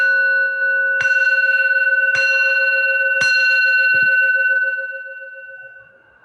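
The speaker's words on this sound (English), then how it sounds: "this Zen bell." A Zen bell is struck several times, each clear ring with a long sustained tone that layers on the last, then slowly fades away.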